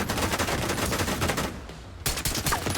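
Rapid automatic gunfire in The Division 2, a dense, loud stream of close shots that breaks off briefly for a split second, then resumes, with no talking.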